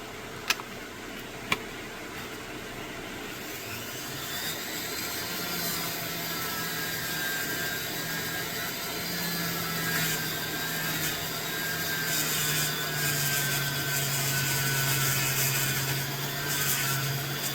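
A fire agate stone being worked with a green-grit sanding pad similar to 3M sandpaper, giving a steady, fairly quiet abrasive rubbing hiss with a low whirring drone and two sharp clicks near the start.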